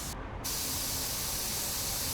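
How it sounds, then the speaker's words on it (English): A continuous, loud hiss of a paint spray gun spraying metallic paint at 22 PSI, starting after a brief softer moment and holding steady to the end. "we're gonna do one spray out here with a higher pressure"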